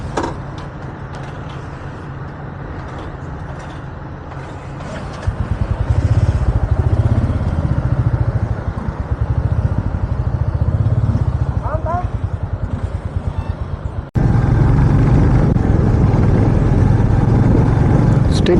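A motorbike rides along a coastal road between Alibag, Shrivardhan and Murud, its engine and wind noise droning steadily and growing louder partway through, with a rider talking over it.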